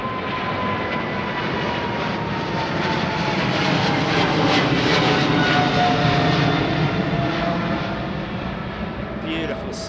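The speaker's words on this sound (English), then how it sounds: "Beautiful sound of those GEs, man." A Qatar airliner powered by GE jet engines rolls or passes at Heathrow runway 09R, a loud, sustained broadband roar with a whining tone that swells slightly midway and stays continuous throughout.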